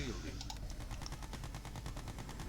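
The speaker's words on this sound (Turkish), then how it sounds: "Yine robot tankla geliyor. Sesinden anlaşılıyor zaten." A robot tank attacking in Red Alert 2: Yuri's Revenge, a fast regular run of gunfire-like bursts rattling steadily through the stretch, faint and low under someone talking.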